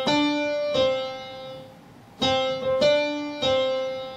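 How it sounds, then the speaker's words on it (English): Piano notes play the opening phrase of Happy Birthday, a series of distinct struck notes with sustained harmonics, heard alone and fairly close with no talking. "That beginning of Happy Birthday is a major second."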